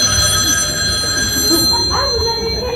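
An old telephone bell rings loudly and steadily during an amateur theatre stage play, a continuous bright metallic trill over a low murmur of room noise.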